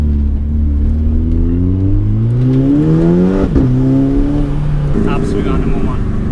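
A 2-litre turbocharged VW Golf GTI tuned to 435 bhp revs up through a rising engine note, then cuts off into a brief turbo flutter as the pitch drops, loud and close.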